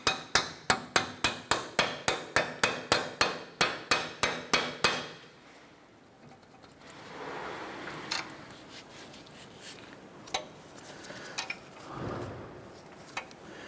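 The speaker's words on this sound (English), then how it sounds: "we're going to go ahead and use a punch in the middle, and we're just going to tap that in" A hammer taps a punch to drive out a Honda Accord CV axle, a dozen sharp metallic strikes in an even rhythm over about five seconds, followed by faint shop rustling and handling noise.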